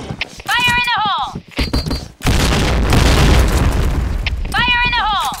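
A grenade detonates in a shooter video game: one loud, deep blast with a long rumbling decay. Voice callouts come just before it, with radio-like chirps and clicks, and another callout follows near the end.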